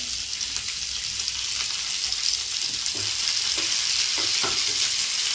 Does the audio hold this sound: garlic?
yes